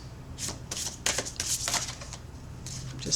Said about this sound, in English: This deck shuffles very, very nicely.